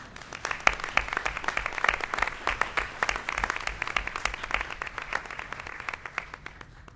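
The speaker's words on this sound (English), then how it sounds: "So we can give them another round of applause." Sustained applause from a room of people at a county board of commissioners meeting, honoring national champion cheerleaders; steady, dense clapping that holds for several seconds before easing slightly at the end.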